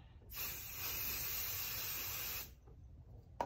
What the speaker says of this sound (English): use my beautiful temporary adhesive spray